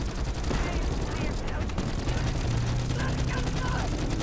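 Dense, continuous gunfire during a zombies boss fight in Call of Duty Black Ops 4, a steady roar of shots and explosions that fills the whole stretch, with voices talking over it.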